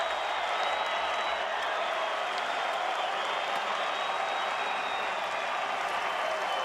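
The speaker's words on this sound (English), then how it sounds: "a very partisan Venezuelan crowd" A partisan Venezuelan crowd at a World Baseball Classic game against the USA in Toronto's Rogers Centre, producing steady, dense stadium cheering and clapping that holds loud throughout, with faint commentary beneath.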